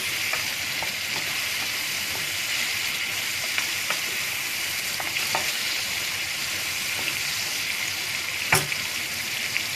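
Leeks and tomato paste sauté in a pan for a Turkish olive-oil leek dish with orange juice, giving a steady close sizzle and hiss with scattered light stirring clicks throughout.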